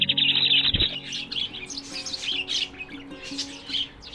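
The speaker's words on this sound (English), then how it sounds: "a group of sparrows gathered around the feeder" Busy, overlapping high chirps and tweets from a group of sparrows at a bird feeder, fairly close, with a brief flutter near the start.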